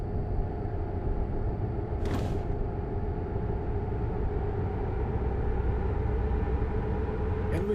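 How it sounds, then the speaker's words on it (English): A lorry engine in American Truck Simulator drones steadily and loudly at speed, a constant low rumble with layered tonal hum, and two brief faint clicks partway through; no talking. "I wonder how fast this lorry can go."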